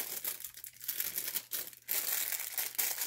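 Shipping packaging for jewelry orders being folded, close crinkling and crushing of thin packing material in loud uneven bursts with brief pauses, no speech.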